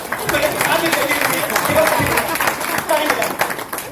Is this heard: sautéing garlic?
no